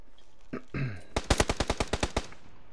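Gunfire in the video game PUBG on PS4: a few scattered shots, then a rapid burst of about ten evenly spaced automatic rounds, loud and close.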